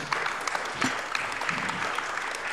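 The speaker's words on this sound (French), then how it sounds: "Je vous propose de les applaudir." An audience at a French conference on flex-office workspace management applauds the speakers, a brief, even burst of many hands clapping at moderate volume.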